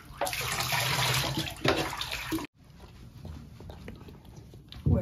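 Water running from a tap while a Basenji dog is bathed, a loud splashing stream that cuts off abruptly halfway, followed by quieter sloshing and faint movement.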